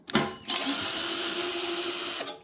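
Cordless power drill on a Mondial MG100 motorcycle removing fuel tank cover screws, one short whir followed by a steady sustained high-pitched spin lasting about two seconds, close and alone.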